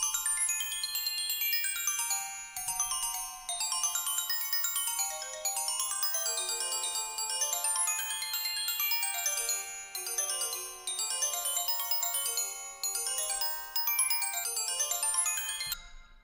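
Bright xylophone layer in a studio music production, a steady run of quick mallet notes rippling up and down in repeating phrases, loud and alone for the whole stretch.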